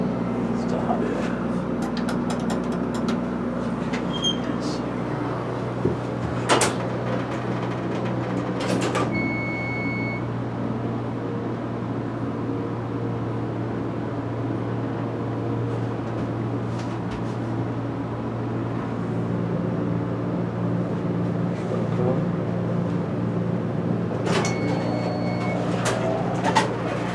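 A Westinghouse hydraulic elevator at a hotel hums steadily with a low drone, while its doors slide and clunk in a few distinct moments and faint electronic chimes sound twice.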